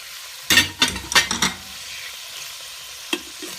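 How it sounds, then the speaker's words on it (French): Onions dropped into ghee in a saucepan hiss and sizzle as a spoon stirs them, a few sharp bursts of frying and scraping up close, then quieter sizzling with a couple of light clinks. "On va les mettre dans notre ghee. Dans le ghee qui est déjà dans la casserole."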